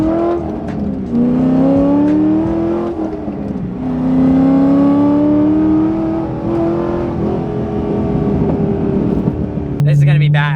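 Straight-piped Corvette pulling away, loud raspy exhaust climbing through revs with gear changes and a sustained drone, with a voice briefly talking over it.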